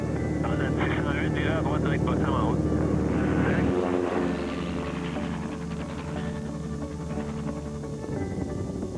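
A propeller airplane drones steadily in flight, a loud continuous engine hum that shifts in pitch midway, with a voice talking over it.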